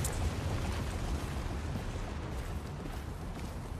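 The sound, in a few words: grenade explosion in video game The Division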